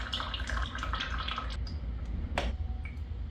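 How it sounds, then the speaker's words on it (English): Coolant drains from the radiator of a Suzuki GSX-R1000R motorcycle, heard as a steady trickle with scattered drips over low background rumble. "Let's wait for a while for these draining to stop."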